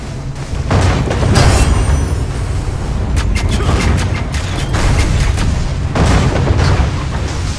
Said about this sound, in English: Let the cannons take them out.